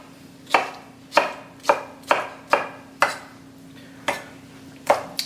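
Knife slicing ripe mango on a cutting board, about ten crisp separate cuts at an uneven, unhurried pace, each a sharp close tap, with a steady low hum underneath.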